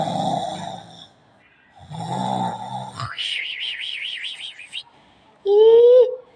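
A man dozing at his ice cream stall snores in a few long, rasping breaths, and exaggerated whistling and squeaky sounds follow. The snoring is likely a voice imitating it for a playful skit.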